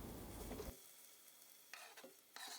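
Loud sizzling of pepper paste frying in a hot pan, with bursts of crackling and stirring that fade to quiet before flaring up again.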